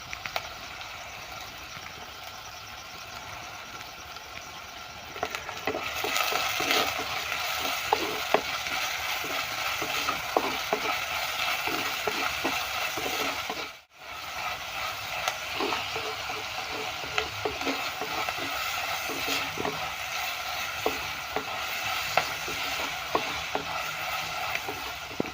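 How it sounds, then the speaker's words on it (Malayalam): Onion, green chili, ginger and curry leaves sautéing in a pan for a fish curry, a close, steady sizzle with frequent spatula taps and scraping as the mix is stirred, briefly cutting out midway, no talking. "സവാളയും പച്ചമുളകും ഇഞ്ചിയും വേപ്പിലൊക്കെ നന്നായിട്ട് വഴന്നിട്ടുണ്ട്."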